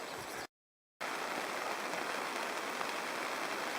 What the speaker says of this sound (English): Well, it's 1 o'clock and it's pouring.